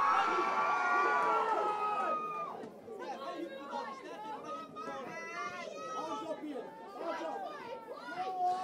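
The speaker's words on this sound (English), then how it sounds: "Your cheering definitely helps them out." A lively crowd of children and adults shouts and cheers at a red-versus-blue corner fight, with excited chatter and overlapping voices continuing throughout.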